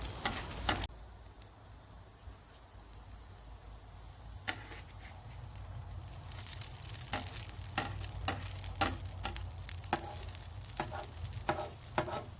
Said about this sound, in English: Now the hash browns are starting to sizzle and they're starting to get crispy.